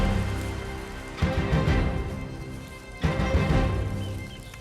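Steady broadband rain falls in the rainy season, a dense continuous hiss with two heavier surges of downpour or rumble partway through, no voices.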